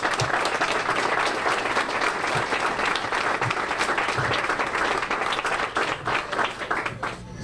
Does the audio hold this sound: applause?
yes